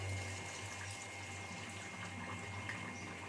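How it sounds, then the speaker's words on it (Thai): Water running from a kitchen tap while eggs are being boiled, a steady continuous rushing stream with a low hum beneath, close and quiet throughout. "เวลาเปิดน้ำใส่นะคะ"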